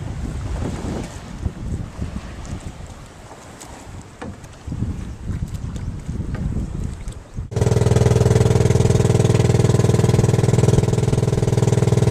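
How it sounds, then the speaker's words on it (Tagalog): Wind and water noise give way to a steady, loud motorboat engine drone that runs on unbroken, heard up close off the Romblon islands, Philippines. "Ang bangka natin"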